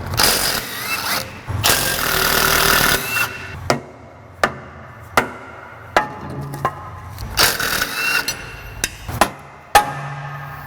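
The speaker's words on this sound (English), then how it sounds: "I don't need these backing plates. I'm going to take them off now." Hammer blows knocking brake backing plates off a truck axle housing during a differential rebuild: a series of sharp, loud metallic strikes spaced a second or so apart, following an earlier stretch of rough scraping, close by with no speech.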